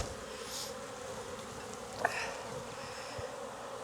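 Honey bees drone steadily in a dense, continuous buzz from an opened, strong hive at a Florida apiary, the swarm sound close and constant with no talking.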